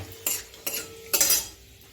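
A few strokes of stirring in a pan of frying cloves, cardamom and cinnamon, with three short scraping clatters of a utensil over a faint sizzle, close and quiet.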